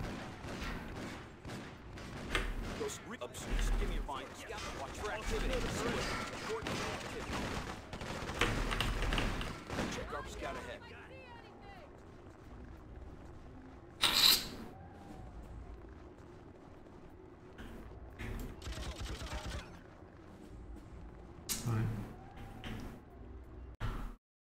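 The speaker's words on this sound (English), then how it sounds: "They're shooting at us" Enemy gunfire in Freedom Fighters crackles in dense, repeated bursts for the first ten seconds or so, then thins to scattered single shots and thumps over a quieter stretch.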